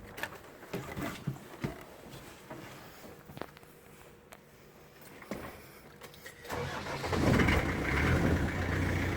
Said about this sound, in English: Let me just jump in and start her up for you.